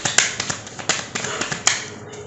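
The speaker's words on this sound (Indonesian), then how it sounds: "Langsung kita shuffle." Tarot cards being shuffled by hand, a run of light, crisp riffling flicks with a few sharper snaps standing out, close and fairly quiet, with no talking.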